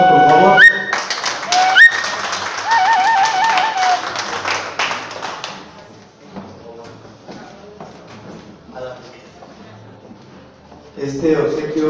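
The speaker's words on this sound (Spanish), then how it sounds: "Necesito un aplauso, por favor." Applause and clapping from an audience at a human rights parliament assembly ceremony, a dense burst in the opening seconds that thins to scattered claps and murmur, with people talking over it.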